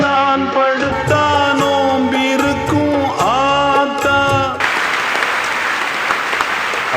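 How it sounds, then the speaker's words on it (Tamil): An audience in a college hall breaks into loud, sustained clapping that starts abruptly after a passage of music and continues to the end. "அவங்க வர்றதை பார்த்தோன்னே அத்தனை கூட்டமும் தானாக எழுந்து கைதட்டுன்னா"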